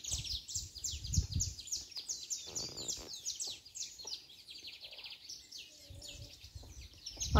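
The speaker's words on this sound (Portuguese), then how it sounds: "Escuta, os passarinhos, como estão felizes." Small birds chirp and trill continuously in rapid, overlapping high calls, fairly close, with a low rumble underneath.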